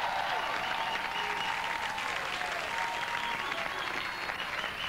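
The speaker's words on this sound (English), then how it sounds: "How about a big round of applause for Ralphie May?" A studio audience at a stand-up comedy competition semifinal applauds, a sustained wash of clapping and some cheering that stays fairly quiet and even throughout, with no speech on top.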